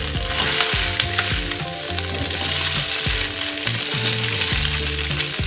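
Shredded ikan cue fish with spices sizzles loudly and steadily in a hot pan, with the close crackle of frying oil broken by occasional scraping stirs.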